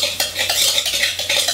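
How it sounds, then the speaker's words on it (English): An egg being stirred into a keto marzipan truffle mixture, giving quick, close, repeated scraping and clinking strokes of a utensil against a bowl over a short span, with no talking. "Then add 1 egg. And combine it together."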